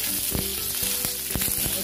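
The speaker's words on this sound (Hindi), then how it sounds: "अब इसको हम मीडियम और हाई फ्लेम पे पकाते रहेंगे।" Sliced pointed gourd (parwal) frying in a pan over medium-high flame, a steady close sizzle with a few brief stirring clicks and scrapes, no talk.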